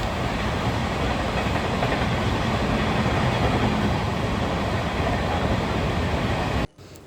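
A train rumbles past close by, a loud continuous roar of wheels and carriages that holds steady for several seconds before cutting off abruptly.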